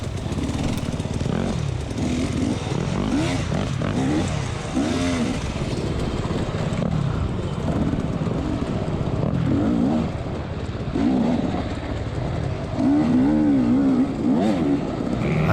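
A dirt bike's engine roars and revs continuously while it climbs a rough hill on a harescramble course, loud and close with rising and falling throttle surges throughout.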